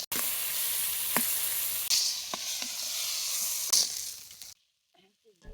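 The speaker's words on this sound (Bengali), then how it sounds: "কাঁচা জিরে তার সাথে হলুদ, মরিচ, লবণ দিয়ে কষিয়ে নিলাম।" Cumin seeds sauté in hot oil with turmeric, chili and salt, giving a loud continuous sizzle punctuated by sharp stirring clicks until the frying cuts off abruptly near the end.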